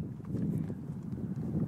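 A horse walks slowly forward during a riding lesson, its hooves giving soft, muffled, low clip-clops at an irregular pace, close by.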